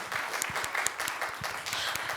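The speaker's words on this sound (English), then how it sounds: "Let's give one more round of applause for Puja and our panelists" Audience applause at a live queer community wellness panel event, a steady dense wash of many hands clapping throughout with no talking over it.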